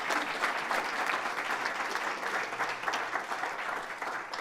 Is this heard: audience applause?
yes